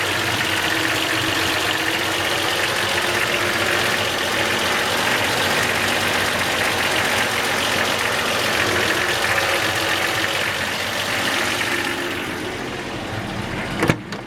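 A 1964 Chevy C10 shortbed pickup's six-cylinder engine idles with the hood open, a close, steady, even rumble that holds for the whole stretch before easing slightly and ending with a brief click.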